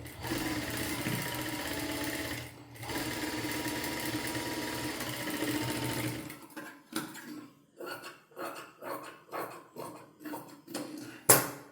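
A sewing machine stitches a fabric edge along a marked line, first in a steady unbroken run, then in short repeated bursts of stitching with brief pauses between them, close and fairly loud.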